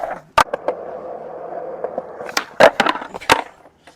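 Skateboard wheels roll steadily on a surface, broken by sharp wooden clacks and snaps as the board pops and lands a backboard trick onto a grind, with several quick impacts near the end.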